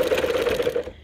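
A sewing machine runs briefly while stitching a seam with a backstitch, giving a loud, rapid mechanical whir that stops abruptly after about a second.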